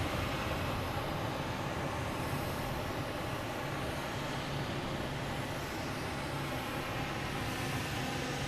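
A Delta airliner bound for Amsterdam takes off from runway 15 right at Boston Logan, a steady, continuous jet engine roar that holds at moderate distance throughout with no voices.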